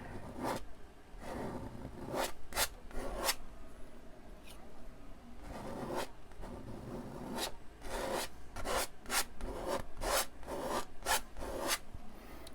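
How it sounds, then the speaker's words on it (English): Paint is scraped and scrubbed onto a dry area of a mountain painting, a close series of quick scratchy rasping strokes in uneven bursts, some rapid and clustered, against a quiet room. "Scrape a little bit more paint on here because this is dry and I'm going to have to scrub on it a little bit."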